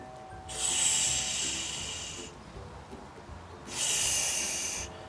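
Two strong forced exhalations through the mouth during a core exercise for pelvic alignment, each a long breathy hiss lasting almost two seconds, close to the microphone with a pause between them and no talk.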